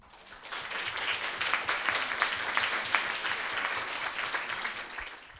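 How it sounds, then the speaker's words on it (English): Audience applause at an art forum session, dense clapping that builds quickly and holds steady and fairly loud for several seconds before tapering off at the end. "I think we should give Shumon a very big round of applause."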